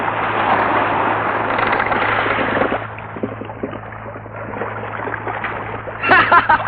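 River water splashes in a radio drama as people dive in: a loud, churning rush of water that eases midway, then returns with a sharper burst of splashing near the end.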